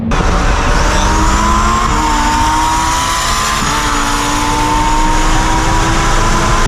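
Twin turbo Lamborghini Huracan Performante of about 1100 horsepower drives hard at full throttle, a loud continuous engine roar with rising and falling pitch through the gears, close and dominant.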